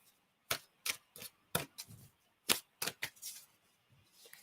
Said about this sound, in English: There's a good shuffle.